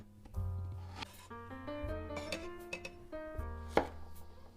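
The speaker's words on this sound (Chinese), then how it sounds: "把生姜切成颗粒" A kitchen knife rapidly chops fresh ginger into small granules on a cutting board, close and crisp, with steady repeated taps over quiet background music.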